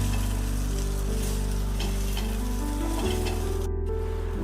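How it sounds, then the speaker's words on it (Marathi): Bitter gourd stir-frying on a hot tawa with rice flour, giving a loud, continuous close sizzle with occasional scraping stirs and a brief metallic clink of the spatula. "कारले व्यवस्थित आपण तव्यावरती परतून घ्यायचे."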